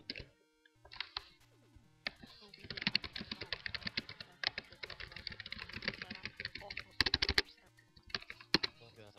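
Rapid clicking of a computer keyboard, bursts of fast keystrokes with short pauses between, close and fairly clear, a voice talking underneath at times.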